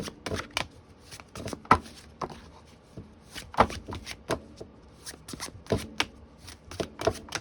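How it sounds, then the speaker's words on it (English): Tarot cards are shuffled by hand a card at a time, giving a soft, uneven series of crisp snaps and riffling flicks, close up and fairly quiet, with no talk over them. "I'm sorry, I don't usually shuffle this poorly."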